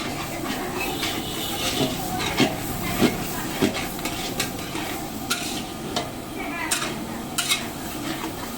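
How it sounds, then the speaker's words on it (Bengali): Potatoes go into a pan of sizzling, spiced pointed gourd and prawns, with a continuous frying hiss and occasional stirring scrapes close by. "এদিকে আমার পটল চিংড়ি মশলা কষে গেছে তাই দিয়ে দিচ্ছি আলু"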